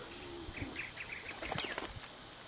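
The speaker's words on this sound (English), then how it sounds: "I see that bird over there" Wings flap as a bird takes off in the video game Shadow of the Tomb Raider, a soft flurry of beats over a quiet ambient bed, with a few faint chirps mixed in.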